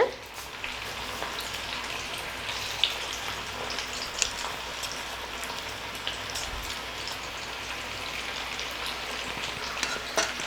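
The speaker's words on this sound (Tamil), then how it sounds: "சிக்ஸ்டி ஃபைவ் நல்லா கிறிஸ்பியாக இருக்கணும். ஸோ ஃப்ளேம் முடிஞ்ச அளவுக்கு மீடியம் டு லோலேயே வச்சு பொரியுங்க." Chicken 65 deep-frying in hot oil over a medium-low flame gives a dense, continuous sizzle and crackle, close and steady throughout with scattered sharper pops.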